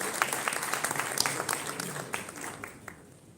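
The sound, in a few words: applause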